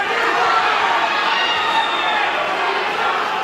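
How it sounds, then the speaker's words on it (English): A boxing crowd roars steadily through round two of a fast-paced bout between two cut fighters, a dense, loud wall of cheering and chatter with no breaks. "The crowd getting right behind these two gentlemen."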